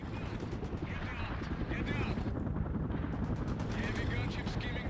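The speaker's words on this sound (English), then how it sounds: "Heavy gunship skimming the treetops." A heavy gunship helicopter in the strategy game World in Conflict fires a sustained, dense stream of machine-gun rounds over rotor noise, loud and continuous, with voices talking through it.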